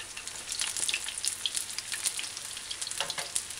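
Okra codfish fritters crackle and sizzle in hot oil as they are flipped, a steady bright frying hiss with scattered pops throughout, close and alone with no talk.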